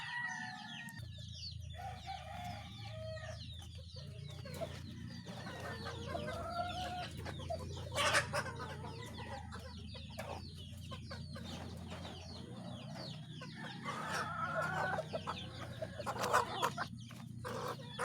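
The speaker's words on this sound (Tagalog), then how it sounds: "magpapaligo tayo ng mga manok para ma-preskuhan sila" Chickens and a rooster cluck and crow steadily while being bathed outdoors on a hot day, with busy overlapping calls and occasional louder crows over a low background rumble.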